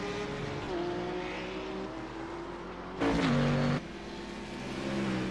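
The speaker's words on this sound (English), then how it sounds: "Listen to that sound of that engine. That sounds like a proper race car." A Cadillac race car engine in a GT3-style racing video game at Zandvoort drones steadily with shifting harmonic pitch, then swells into a louder burst of revving with tire noise before settling back to a steady hum.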